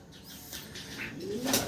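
Pet pigeons coo softly nearby, a short low throaty call over a faint rustling background.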